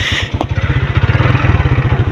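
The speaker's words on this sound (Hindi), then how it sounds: "बिलाल ने अब मोटरसाइकिल स्टार्ट करके जा रहे हैं" A motorcycle engine runs up close with a steady, fast pulsing thump, revving as the rider pulls away in a rural village setting.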